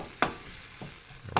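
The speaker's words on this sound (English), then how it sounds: "So I'm going to mix these in and finish browning the hamburger." Hamburger meat browns in a pan under a low, faint sizzle, broken by three quick scraping stirs spaced about half a second apart.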